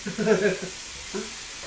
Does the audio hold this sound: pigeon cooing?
no